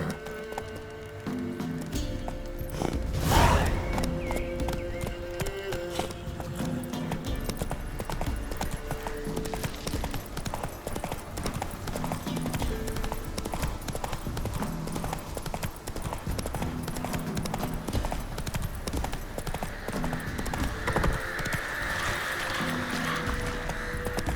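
Roach the horse trots in The Witcher 3, hooves clip-clopping in a steady, continuous rhythm through the whole stretch over a busy game soundscape, with one brief louder burst early on.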